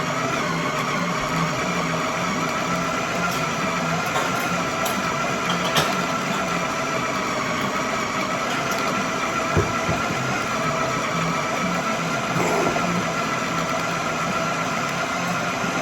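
A meat grinder on its low setting grinds cold pork butt for cudighi sausage, giving a steady, continuous motor drone with a low hum and a few faint clicks throughout, no talking.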